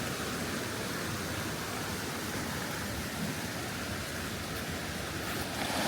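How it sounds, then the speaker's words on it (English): Lower falls of Rock Run Falls, a steady, full roar of rushing water pouring over rock, loud and unbroken without voices. "Another look at the lower falls."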